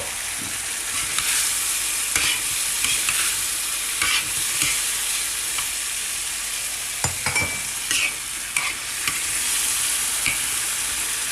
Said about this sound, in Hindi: और अब हम इसमें अपना बीफ शामिल कर देंगे।